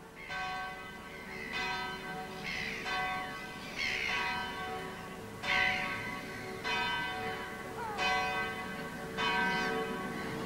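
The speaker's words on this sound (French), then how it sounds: "Les cloches, c'est terrible." Church bells ring out repeatedly in a steady, overlapping peal, bright metallic strikes sustaining over a low background rumble.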